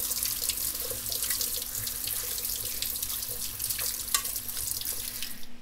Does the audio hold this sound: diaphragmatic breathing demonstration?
no